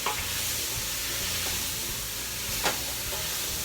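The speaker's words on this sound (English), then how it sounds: "We're gonna let this saute" BBQ jackfruit sautés in a pan, a steady close sizzle and hiss with a few light scrapes of stirring and no talk.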